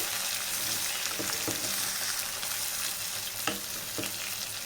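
Chintamani chicken with coriander is stirred in a pan, producing a loud, dense hiss of frying with a few soft scrapes and taps of the spoon, steady and close, with no speech.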